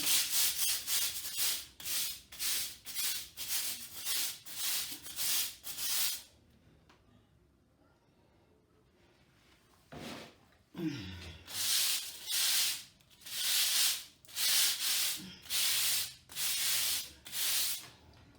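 Rubber-gloved hands scrubbing a stone wall, rhythmic rasping strokes repeating at a brisk pace, pausing for a few seconds midway before resuming.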